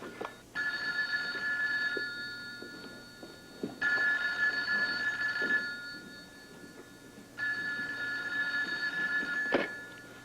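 A telephone bell rings in three long bursts separated by pauses, followed by a short clatter, with faint room noise beneath.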